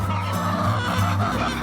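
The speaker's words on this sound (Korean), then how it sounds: "울음소리는 건강한 닭의 표상." A rooster crows on a farm in Hadong, Korea: one close, loud, drawn-out call with a throaty, honking tone lasting over a second.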